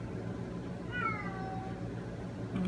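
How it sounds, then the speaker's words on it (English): A house cat lets out a single drawn-out meow, faint and somewhat distant, over a quiet room background. "there's my kitty cat again"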